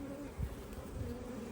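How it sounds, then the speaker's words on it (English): Honeybees buzzing inside a beehive super: a dense, steady drone of many wings, close and continuous, with a low hum swelling briefly in places and no voices. "The amount of bees in there, look, that's just fantastic."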